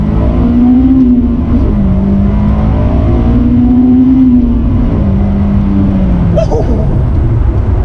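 A 2005 Honda S2000 AP2 engine revs hard toward redline several times, its loud, close whine climbing and falling in rising sweeps.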